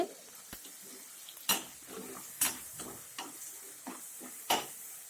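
Tomatoes being sautéed in a pan while cooking a spinach thuvaiyal, with soft sizzling and a series of sharp spatula scrapes and clinks against the pan at irregular intervals, close and fairly quiet, no talking.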